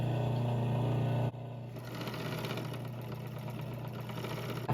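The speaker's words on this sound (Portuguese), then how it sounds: "aqui eu vou passar no overlock essas partezinhas aqui, para depois emendar e passar mais uma vez" An overlock serger hums and rattles as it stitches small fabric pieces together, a steady close mechanical whir that shifts pitch partway through and runs without pause.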